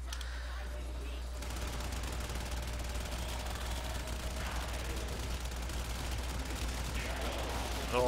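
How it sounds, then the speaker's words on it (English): Enemy gunfire in the sci-fi shooter game Warframe, a continuous dense barrage of rapid shots and blasts over a constant low rumble, loud and unbroken for the whole stretch. "They are shooting at him."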